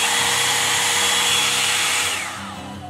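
Hot Tools Pro volumizing hair dryer brush running with a steady, loud blowing whir and high motor whine that drops off near the end as it winds down; someone speaks briefly over it.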